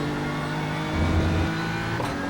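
A race car engine in the iRacing sim during an IMSA iRacing Series race, droning steadily with layered harmonic tones and a brief surge in revs midway, heard alone and continuous.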